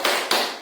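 Two sharp, close hand claps a quarter second apart, part of a rhythmic group 'tepuk salut' clapping routine in a teacher-training session, each clap loud and crisp with a short ringing decay.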